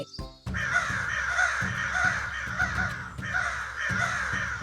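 Crows in a Bengali cartoon caw repeatedly and loudly, several harsh overlapping calls in a near continuous chorus close by, with no talk over them.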